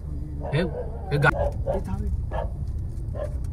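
Dogs bark and yip at night from a moving car, short sharp barks repeating at a moderate distance under loud engine rumble and people talking.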